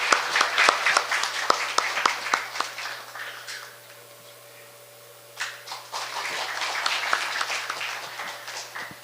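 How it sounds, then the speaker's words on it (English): Conference audience applauding to welcome Ban Ki-moon to the keynote at an international meeting on North Korean human rights, dense clapping that dips to a lull midway and then swells again. "Let's please welcome him with a warm round of applause."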